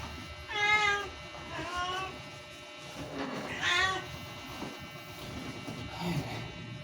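A cat meows several times nearby, drawn-out and plaintive cries with short pauses between them, over a soft background hum.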